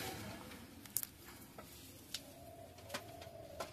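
A pair of Fulshira pigeons cooing softly, faint low coos with a few light flutters and taps against quiet background noise.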